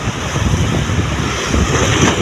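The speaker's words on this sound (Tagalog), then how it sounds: "ngunit po napakalakas ang alon" Strong sea waves churn at the port of Burgos, Southern Leyte, with a rough, loud surge and wind buffeting the microphone throughout the short stretch.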